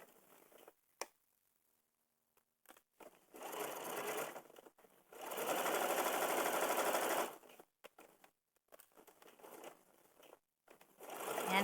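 Sewing machine stitching a denim seam along a curve, running in several bursts of steady whirring separated by pauses, close and fairly loud with no talk.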